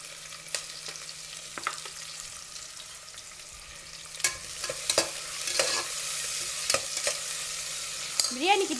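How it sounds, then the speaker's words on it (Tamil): Onions stirred and frying in hot oil in a pan for mutton biryani, a steady soft sizzle with repeated scraping stir strokes that grow busier in the second half, heard close with no talk. "ஸோ டைரெக்டாக வந்துட்டு வெங்காயம் வந்து ஆட் பண்ணிக்கிறேன்"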